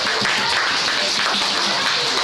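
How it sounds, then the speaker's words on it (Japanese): Dense, loud applause from an audience, a continuous wash of many hands clapping with little break for its whole short length. "拍手。"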